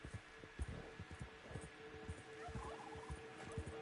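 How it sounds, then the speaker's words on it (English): Turkeys gobble in the Red Dead Online video game, a faint, rapid rattling chatter repeating in quick bursts at a distance over a soft steady background hum. "Bunch of turkeys."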